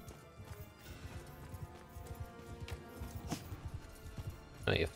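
Rhythmic hoofbeats of a galloping horse in Mount & Blade II: Bannerlord clatter steadily, game-style, ending in a sudden louder crash-like burst.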